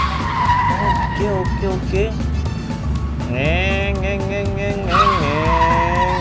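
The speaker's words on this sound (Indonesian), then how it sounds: "Aku naik mobil Hot Wheels, dia naik Krabby Patty." Tire squeal from a Hot Wheels car skidding through turns in the video game Stumble Guys, rising and sliding in pitch over a steady engine drone and game music, with a player talking over it.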